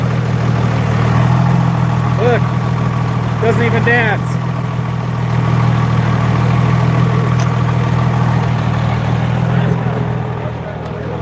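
A record-setting 4,461 hp Cummins diesel truck engine idles steadily with a loud low rumble throughout, while people talk briefly over it.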